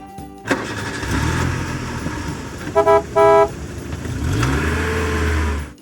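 A car engine starts with a crank and catches, then idles and revs, with two short horn toots in the middle, a clear close sound effect with no talk.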